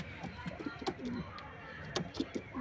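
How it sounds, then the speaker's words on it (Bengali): Diamond doves calling and cooing in an aviary during a squabble between two males, soft repeated coos and short calls scattered through the moment amid faint background chatter. "দেখুন পশ্চিমা নটটা ডাকাডাকি করছে"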